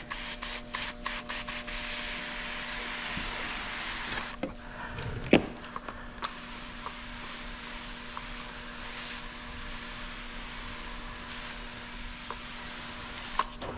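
A spray bottle mists water during a window tint install on the front doors of a 2023 Tesla Model 3, a hissing spray burst at the start followed by quieter rubbing, squeaks and a steady background hum.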